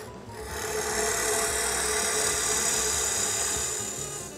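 Tool rasping against a wooden lidded box spinning on a lathe as it is chamfered inward, a steady close scraping that swells and holds for a few seconds with no talking.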